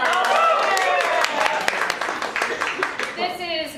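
A small live audience claps and applauds in a quick rattling burst that tapers off, with a voice speaking over the fading claps.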